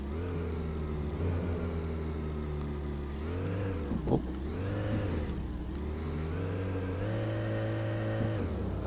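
Car engines in the Car Dealer Simulator video game on PS5, a continuous steady engine drone rising and falling in pitch as the car speeds along, with a short revving surge midway, and a brief vocal exclamation.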